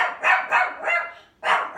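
Close, loud barking from a pet dog indoors, four quick barks in a steady run, a short pause, then two more barks, with no one talking.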